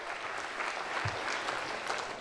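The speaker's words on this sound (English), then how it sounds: "Give my 3 friends a big round of applause for helping out here, would you?" Audience applause at a comedy-magic show, a steady wash of clapping hands filling the room from start to finish at moderate loudness, with no talk over it.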